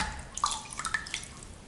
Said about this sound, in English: And then you just rinse it in water,